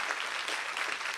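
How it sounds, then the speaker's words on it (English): Dense, steady audience applause for panel speakers, a continuous close wash of many hands clapping throughout. "one more round of applause for them"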